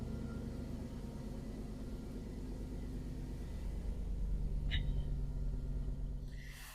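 A 1954 custom Ford F100 truck engine running steadily with a low, even rumble that swells slightly, heard close, with a brief click near the end.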